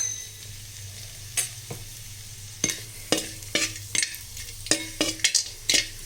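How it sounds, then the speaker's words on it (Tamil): Asafoetida roasting in oil in a pan for idli podi, a steady close sizzle broken by a series of sharp stirring scrapes and taps that grow more frequent toward the end, with no talking. "இப்போ இந்த பெருங்காயம் வந்து நல்லா வறுபட்டுடுச்சு."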